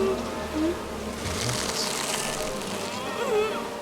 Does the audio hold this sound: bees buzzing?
yes